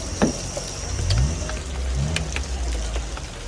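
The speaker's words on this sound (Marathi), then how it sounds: "कारण पाऊस चालू आहे" Steady rain hisses and patters around a moving car at night, over a low engine rumble, with no voices.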